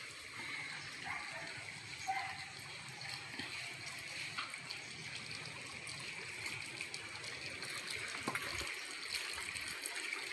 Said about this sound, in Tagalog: Submersible pump ang tawag dito.